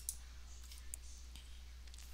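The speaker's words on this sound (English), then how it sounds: "We can invite additional users by clicking this Add User button." A single soft mouse click on a QuickBooks Online settings button, faint and brief over a quiet low hum.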